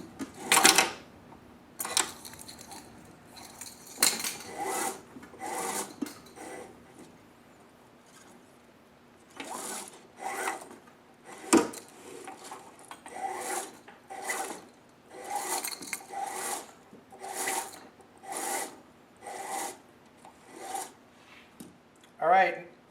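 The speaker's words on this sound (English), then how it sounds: "So I'm just going to keep on pulling with this. Let the cord come through." Band cord pulled hand over hand through the pulleys of a VertiMax Raptor Dual training machine: repeated close, scratchy rasping strokes, irregular at first and then a steady run of evenly spaced pulls.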